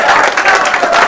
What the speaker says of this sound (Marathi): जोरदार टाळ्या होऊ द्या त्यांसाठी